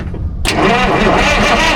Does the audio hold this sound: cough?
no